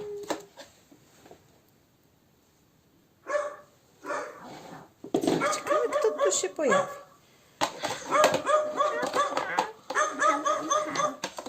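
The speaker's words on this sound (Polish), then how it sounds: "Pies. Pies, brawo. To piesek." A dog barks repeatedly in loud, clustered bursts after a brief spoken line, the barking close and continuing in several rapid volleys.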